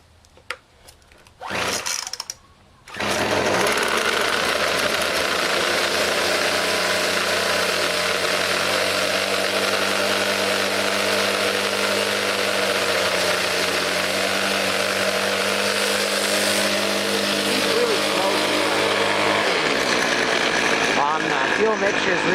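A Craftsman 25cc convertible gas grass trimmer starts cold on a rich fuel mix with old gas. A short rough burst comes first, then the engine runs loud and steady for about seventeen seconds before dying out.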